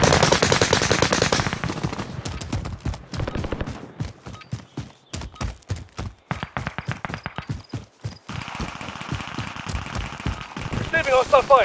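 Video game gunfire in Call of Duty Warzone: rapid bursts and single shots crackling throughout, loud up front then sparser and mid-distance, with a short burst near the end.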